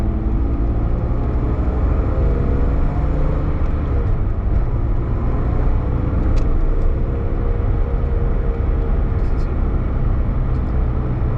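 Steady, loud engine drone and road rumble from inside a BMW M3 E36 as it accelerates, with people talking over the constant motor noise throughout.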